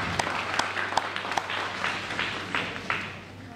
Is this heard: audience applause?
yes